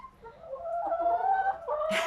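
Chickens kept for eggs in Austria cluck and call softly while pecking at food scraps, a short drawn-out vocalization close by, ending in a brief rustle.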